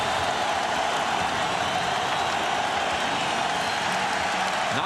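A packed Staples Center crowd at Game 6 of the 2000 NBA Finals between the Pacers and Lakers cheers in a steady, loud roar that fills the whole stretch without a break.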